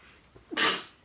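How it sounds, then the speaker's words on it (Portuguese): A single sharp sneeze, close and loud, preceded by a quick intake of breath in an otherwise quiet room. "Vou espirrar."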